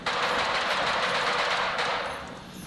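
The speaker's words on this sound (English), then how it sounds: "Is that gunfire over there?" Dense, sustained automatic gunfire from the game STALKER 2, a continuous loud rattle that fills the clip and eases off slightly toward the end.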